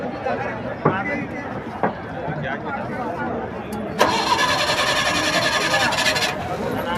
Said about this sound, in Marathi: आपली बोट झालेली आहे चालू